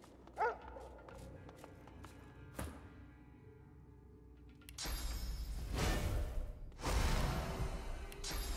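Dogs barking in the fantasy role-playing game Divinity: Original Sin 2, a few sharp yelps early on followed by louder bursts of growling, snarling combat noise and whooshing effects.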